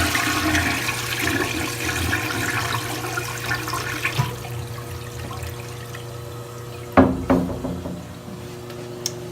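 Household toilet flushed after a cherry-scented cleaner sits in the bowl, a loud rushing swirl of water that tapers off into quieter trickling and refilling, with a couple of clunks near the end.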